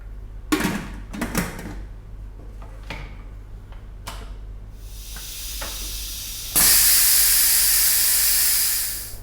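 A pressure cooker holding camel meat for an Arab Khaleeji rice dish clicks and ticks softly, then bursts into a loud, continuous steam hiss that holds for a few seconds before tapering off.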